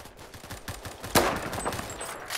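Rapid automatic gunfire in the Roblox shooter Phantom Forces, a rattling burst of close shots peaking in one loud crack, then continuing in scattered bursts and distant pops.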